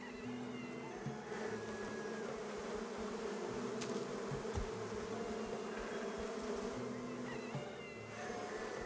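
Continuous insect-like buzzing of bees in the Going Medieval video game, a faint, steady drone running throughout with small pitch wavers and no speech.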